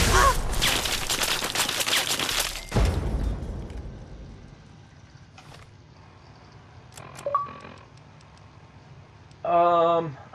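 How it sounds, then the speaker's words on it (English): An automated turret in the video game Fallout 3 opens up with a loud, rapid burst of gunfire lasting a few seconds, followed by quieter game sounds and a few short electronic beeps. "Oh, it's a turret."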